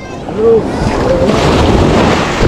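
Sea waves slap and splash against a moving boat, a loud, continuous rush mixed with wind buffeting the microphone, with a brief human call near the start.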